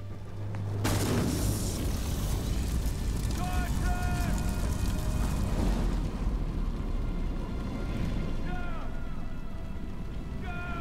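A bomb explodes in the video game Medal of Honor Warfighter: a sudden loud, close blast hits after a short lead-in, then settles into a sustained roaring rumble with scattered in-game sounds.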